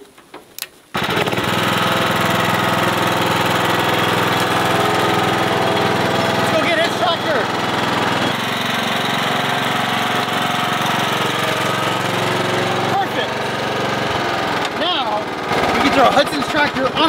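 After a short quiet moment, a tractor engine starts up close by and runs loud and steady, with a rough, chugging rumble throughout.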